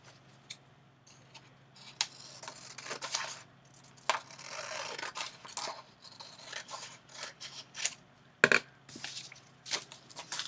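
Scissors snip through a sheet of folded paper cut into a snowflake, close up, with irregular crisp snips and paper crinkles and no voices.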